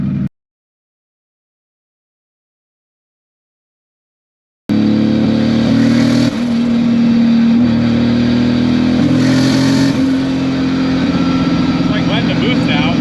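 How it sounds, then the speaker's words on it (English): A Supra-engined Mercedes-Benz with a six-speed manual swap starts up loud and close after a moment of silence, holding a steady, heavy drone with brief surges as it revs. "It's like letting the boost out. That's the wastegate opening."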